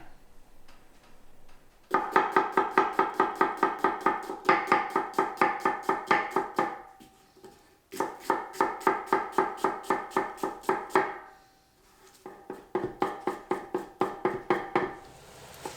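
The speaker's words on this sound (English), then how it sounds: "just cut up all your onions and your garlic and put it in a big pot with a lot of olive oil" A knife chops onions and garlic on a board for a venison neck ragout, in quick rhythmic bursts of sharp close taps with brief pauses between runs.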